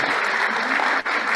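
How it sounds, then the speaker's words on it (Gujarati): An audience at a cookbook launch applauds the authors with a dense, sustained burst of clapping from many hands, loud and even throughout. "આપણે ગૌરવ ભગીનીઓને તો તાળી પાડવી જ જોઈએ"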